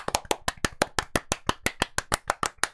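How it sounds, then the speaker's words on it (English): A single pair of hands claps in a steady, even rhythm, about fifteen crisp, close claps in quick succession with no talking. "Everyone get your clapping hands ready"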